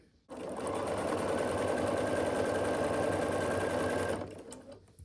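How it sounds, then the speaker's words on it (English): A sewing machine with a quarter-inch foot runs steadily for about four seconds, stitching along the long edge of a quilt block with an even, close mechanical whir before stopping. "I sew across this long edge with a 1/4 inch foot"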